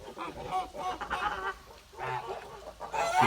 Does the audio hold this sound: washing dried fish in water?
no